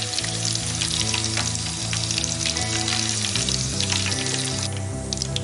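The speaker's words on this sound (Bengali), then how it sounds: "কাঁচা লঙ্কাগুলো ফ্রাই করে নেব" Green chilies fry in hot oil while making crispy Gobi 65 cauliflower fry, a dense, continuous sizzle and crackle close by with faint stirring, no voices over it.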